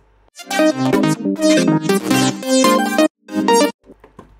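A synth mix run through a sidechained auto filter that cuts its lows, giving choppy bursts of bright stacked chords with short gaps, loud and close, fading to faint tails at the end, with no talking.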